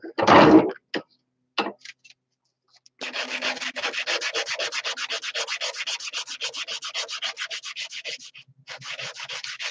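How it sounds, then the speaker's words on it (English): Wood rubbed back and forth with finer sandpaper to remove scratches, a rapid rhythmic rasping that runs in steady strokes after a few scattered knocks and a short pause, close and fairly loud. "Now I get out every little scratch. See, there's some little scratches right in there from the heavier sandpaper."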